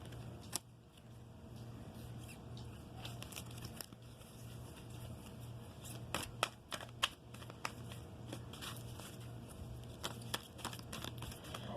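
Tarot cards are handled and shuffled, producing faint, close riffling and flicking taps scattered through, louder bursts in the second half, over a low steady background hum.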